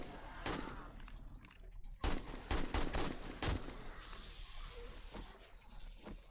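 Automated turret gunfire in 7 Days to Die, firing in sharp rapid bursts of cracking shots over a low rumbling background, fairly distant and moderate in level.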